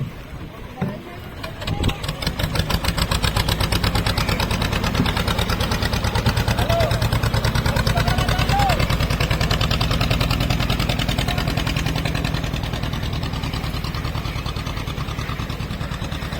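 A small fishing boat engine at Ade, Dapoli, starts up and settles into a loud, steady rhythmic putter close by, chugging continuously with faint voices in the background.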